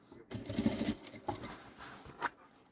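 A sewing machine stitches a bag lining in a few short, quiet bursts of rapid mechanical chatter separated by brief pauses.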